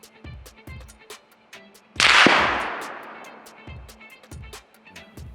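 Rifle firing a Core-Lokt bullet at a target 100 yards away, a single loud close blast with a long decaying echo, set against a steady pattern of ticking clicks before and after.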